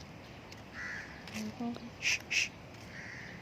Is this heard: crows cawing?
yes